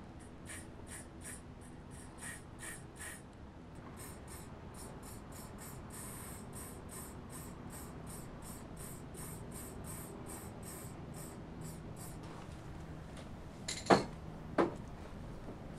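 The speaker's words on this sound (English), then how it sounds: "At the end and the last step, I spray the background." A spray paint can sprays onto a stencil artwork in a studio, with repeated short hissing bursts and pauses, then longer continuous hissing, close and moderately loud, and two sharp knocks near the end.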